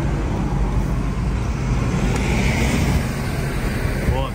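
A bus rolls past on a Brazilian street, a loud, steady broadband engine and road rumble that holds throughout with no clear rise or fall.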